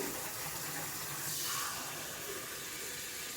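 Tap water runs into a cooking pot for homemade chicken and dumplings, a steady close hiss and rush of filling liquid with a slight shift in tone as the level rises, with no voices.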